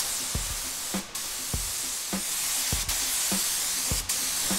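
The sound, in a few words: spray gun spraying 2K clear coat on a panel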